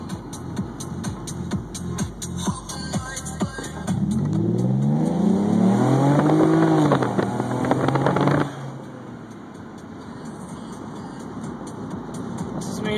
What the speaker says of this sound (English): show y'all how the intake and exhaust system sounds like from inside the cabin